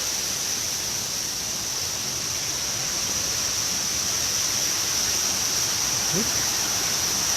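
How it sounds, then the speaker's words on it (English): A waterfall on a creek gives a steady, broad rushing roar that stays constant throughout, with a faint voice briefly audible near the end. "There's the waterfall."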